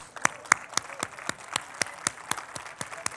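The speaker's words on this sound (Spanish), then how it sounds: "Un aplauso." Audience clapping in a church during a sermon, a loose round of sharp individual claps at fairly regular intervals, moderately close and without talk.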